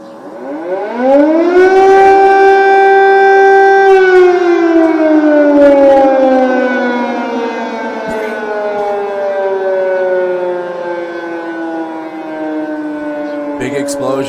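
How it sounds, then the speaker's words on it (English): A loud air raid siren in Kyiv, Ukraine, during wartime attacks winds up, holds a long wailing tone, then slowly falls in pitch as it winds down. "That's what the ending of an air raid siren sounds like."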